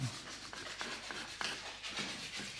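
Sandpaper rubbing across a carved wooden spoon in short, repeated scratchy strokes, a close dry rasp that pulses with each pass and pauses briefly between strokes.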